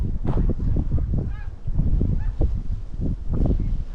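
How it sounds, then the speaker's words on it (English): Geese honk repeatedly outdoors in Colorado, several birds calling at once in a noisy, overlapping chorus, fairly close and loud. "There's some geese, guys. Some geese right there."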